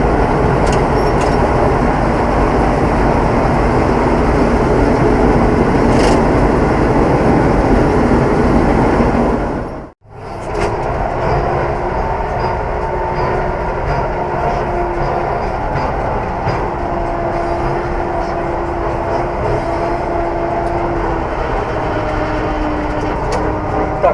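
A Claas combine harvester rumbles steadily as it drives between fields during a wheat harvest, loud and continuous engine and machinery noise with a brief sharp dropout near the middle, then the same drone resumes.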